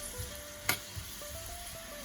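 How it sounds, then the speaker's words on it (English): Chopped vegetables for shakshouka saute in a pan with a soft, steady sizzle, one sharp scrape or clatter midway, alone and fairly quiet. "we got about 5 minutes of sauteing these to get them to soften a little bit"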